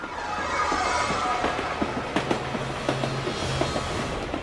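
A train rolls steadily along the rails with a soft continuous rumble and faint intermittent clicks from the wagons, heard alone at moderate distance.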